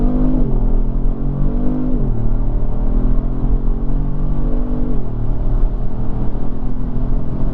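A 2019 Kia Stinger GT1 rear-wheel-drive sedan accelerates hard, its engine note climbing through the revs with distinct drops at gear changes, loud and close from inside the cabin.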